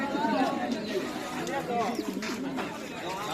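Pigeons, including dauka and giribaz breeds, coo at a busy pigeon market, their soft throaty calls mixed with people talking close by.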